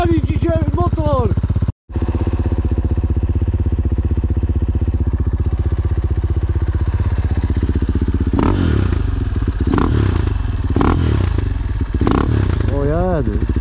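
A motorcycle engine roars loudly and continuously with a brief cut, rising revs and clattering bursts near the end.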